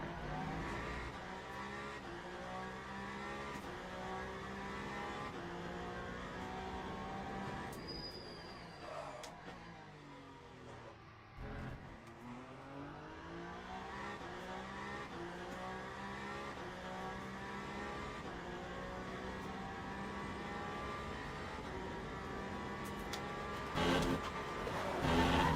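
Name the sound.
hypercar racing at Spa in video game Le Mans Ultimate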